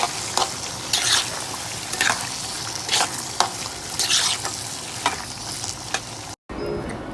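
Potatoes fry with salt and turmeric in an uncovered pan, giving a continuous loud sizzle with scraping stirs at intervals, then a brief cut to quieter frying at the end.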